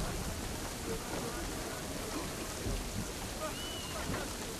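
Heavy rain pours steadily at sea during a thunderstorm in Assassin's Creed 3, a dense, hissing wash with low rumbling beneath, constant and loud throughout with no clear voices.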